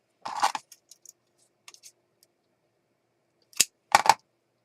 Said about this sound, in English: I'm going to cut this in half.